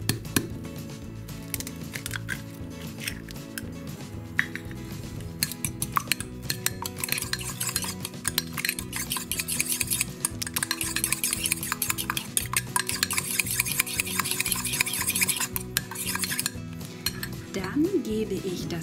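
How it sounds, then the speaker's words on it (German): A fork stirs cake batter with butter and egg in a cup, making steady close scraping and clinking against the cup for the whole stretch, with no talk. "Ich vermische das mit einer Gabel."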